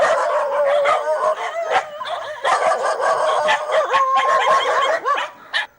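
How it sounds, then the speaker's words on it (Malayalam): Many dogs at a stray dog shelter bark, yip and howl together in a dense, continuous, loud chorus with whimpers mixed in; no voices. "ഈ നായ്ക്കളെയെല്ലാം സുലോചന ചേച്ചി തെരുവിൽ നിന്ന് പിടികൂടിയതാണ്."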